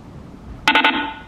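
A FaceTime call being placed, with a sudden ringing tone of a few quick chirps that settles into a sustained electronic tone after a quiet start.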